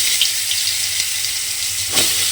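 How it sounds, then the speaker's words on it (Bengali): Spiced pointed gourd (potol) pieces frying in hot oil in a pan, a steady close sizzle and hiss with a brief louder crackle near the end, no talking. "পটলগুলো আমি যে সময় এখানে লাল করে ভেজে নিচ্ছি"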